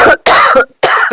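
A woman coughs in a Haryanvi family drama, giving three loud, harsh bursts separated by short silences, close to the listener with no other sound.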